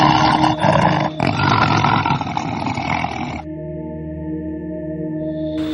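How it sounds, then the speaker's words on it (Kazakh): A tiger lets out a loud, close, rasping roar lasting a few seconds. A steady tonal hum follows once the roar stops. "Жолбарыс."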